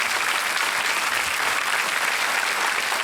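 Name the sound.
studio audience applause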